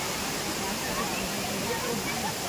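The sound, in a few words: waterfall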